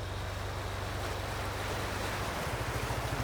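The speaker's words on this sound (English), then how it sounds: "we've got our nice multi-staged waterfall action going on there" A multi-stage waterfall in the video game Farming Simulator 19 rushes steadily beside a bridge, a continuous broadband wash of falling water under a low, pulsing vehicle engine drone.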